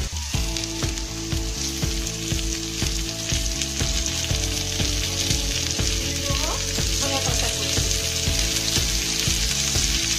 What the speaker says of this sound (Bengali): পেঁয়াজটা ভাজা হয়ে গেছে, এবার এর মধ্যে দিয়ে দেবো টমেটো কুচি।